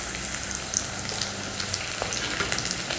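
Eggplant and tomato fry in hot oil for a village-style dry fish curry, giving a steady close sizzle with scattered crackles and pops.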